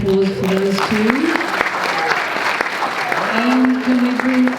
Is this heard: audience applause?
yes